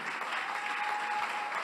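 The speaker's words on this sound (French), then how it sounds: "Maintenant, acclamons pour Jésus." A church congregation claps and cheers for Jesus in worship, a dense, steady wash of applause that holds at even loudness throughout, with no talk over it.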